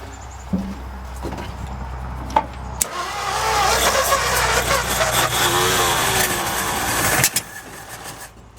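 A 1955 Ford F250 engine cranks, catches and runs loud and close, holding a rough, steady roar for several seconds before cutting back near the end.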